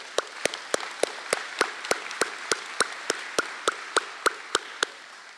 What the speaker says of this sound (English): I'm sure the applause will build.